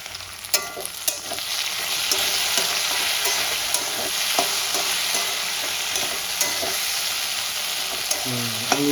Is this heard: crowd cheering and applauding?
no